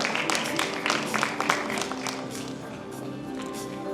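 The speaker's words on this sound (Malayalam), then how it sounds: "നല്ലൊരു കയ്യടിയോടുകൂടി നമുക്ക് സ്വാഗതം ചെയ്യാം ഡയറക്ടർ രതീഷ് ശേഖർ" Audience applause at a film audio launch event, welcoming director Ratheesh Sekhar; steady clapping from a crowd, loudest early and continuing throughout.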